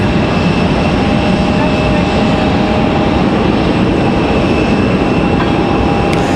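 A Boeing 737 MAX 9 jet departs Raleigh-Durham airport with a loud, unbroken engine roar that saturates the whole stretch, thick broadband rumble with a faint steady whine above.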